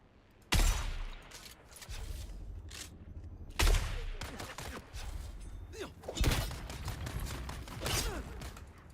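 Gunfire in the video game Dune Awakening, with three loud sharp bursts of shots followed by rattling and clattering, heard up close amid game noise.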